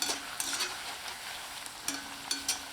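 Cabbage and onion pakoda fry in hot oil with a soft, steady sizzle, while sharper ticks and taps of a utensil turning the fritters cut in now and then; quiet and close.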